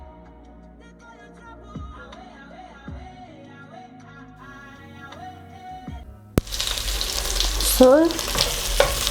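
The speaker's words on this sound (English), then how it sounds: "So we continue to brown our beef." Ground beef browning with onions in a hot pan for a Kenyan steamed vegetable rice dish, with a steady frying sizzle and occasional stirring clicks, louder in the last few seconds.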